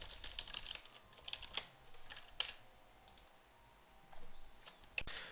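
Keys clatter on a computer keyboard in short, uneven bursts of light clicks while a craft description is being typed in the space flight game Kerbal Space Program, quiet and close against a faint background hiss.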